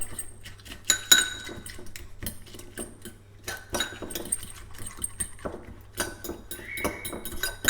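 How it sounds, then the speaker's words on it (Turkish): A fork mixes ingredients for an oat-based fit toast in a bowl, giving quick, uneven metallic clinks and taps against the dish, close and fairly quiet, with no one speaking. "Şimdi bunları çatalla güzel bir şekilde karıştırıyorum."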